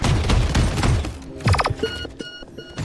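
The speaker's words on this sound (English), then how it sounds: "I'm under fire!" Gunfire in the shooter game Paladins, a loud close flurry of rapid shots followed by metallic mechanical clanks and ringing tonal effects.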